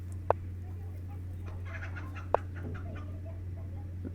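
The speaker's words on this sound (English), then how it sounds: "Can you guys hear my chickens, by the way?" Pet chickens kept indoors clucking softly in the background over a steady low electrical hum, with two sharp sudden knocks and faint scattered cackles.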